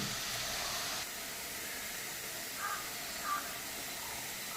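Steady hiss of a cracked egg sizzling in a hot pan with red spinach, loud and constant at first, then slightly softer, with a couple of small clinks near the end.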